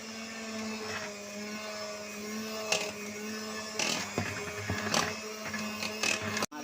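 An electric mixer whips cream for homemade mango ice cream: a steady motor whine with strong harmonic hum and occasional clattering bursts from the beaters against the bowl, close and continuous, with a brief spoken word.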